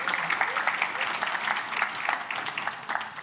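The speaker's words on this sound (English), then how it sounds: "So a round of applause to our platinum partner, Nedbank, please." Audience applauding a platinum sponsor, Nedbank, at a business empowerment conference: steady, dense clapping from a sizable crowd, sustained evenly for a few seconds with no talk over it.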